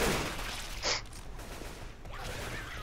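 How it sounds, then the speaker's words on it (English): Hand cannon pistol shots in the zombie shooter Left 4 Dead 2, a sharp crack near the one-second mark standing out from a busy, noisy game mix of gunfire and chaos, fairly quiet overall. "That's a hand cannon."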